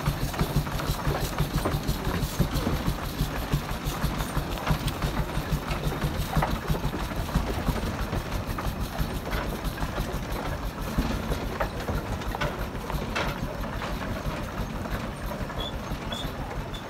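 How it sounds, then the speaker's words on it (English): A steam engine at a steam picnic runs steadily close by on an open road, a continuous chuffing, rumbling mechanical drone with rhythmic knocking for the whole stretch, with no talk. "I got this lovely shot of the engine running."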